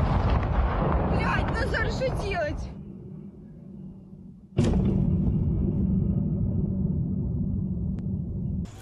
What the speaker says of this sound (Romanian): Explozii puternice au zguduit un cartier central al Kievului.